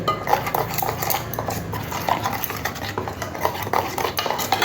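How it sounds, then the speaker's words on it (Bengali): A spoon scrapes and clinks in a bowl as prawn spice paste with chili powder is worked together with mustard oil, a quick, steady run of close metallic taps and stirring scrapes with no talking. "অবশ্যই একটু সর্ষের তেল দিয়ে দেবো দিয়ে খুব ভালো করে মিশিয়ে নিতে হবে"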